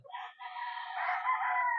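A single rooster crows loudly and close by, one long drawn-out call with no talking around it.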